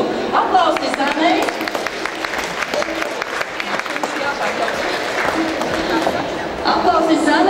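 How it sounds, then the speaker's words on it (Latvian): A crowd at the Aizkraukle inter-municipal entrepreneurs' day awards ceremony gives loud, sustained applause for award winner Zane Valaine, dense clapping from many hands under a speaking voice. "Zanīt, lūdzu, aplausi, Zanē!"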